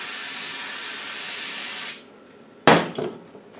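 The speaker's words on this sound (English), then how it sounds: "I'll clean it off with a bit of brake cleaner." Aerosol brake cleaner sprayed onto a clutch mechanism part of an engine being replaced on a Spanish 110, a long steady hiss that stops abruptly, followed by a sharp clatter and a few smaller knocks.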